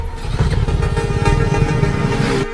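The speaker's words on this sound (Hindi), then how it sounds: "अरे इंजन में से बहुत आवाज आ रही है, अच्छे से चेक करना।" Motorcycle engine running noisily, a rough, steady mechanical chug with a rapid pulsing beat held throughout the short stretch.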